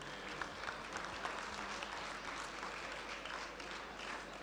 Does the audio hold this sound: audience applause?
yes